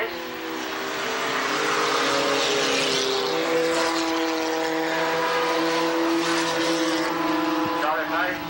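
Race cars, a Pontiac Sunbird among them, roar around the Tonopah Speedway dirt track in Nevada, with engines droning loudly and shifting pitch as they pass, while an announcer calls the race over the noise.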